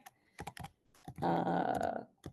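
Quick clatter of keys on a computer keyboard in short irregular bursts, close and fairly quiet, with one longer sustained stretch of rapid typing in the middle.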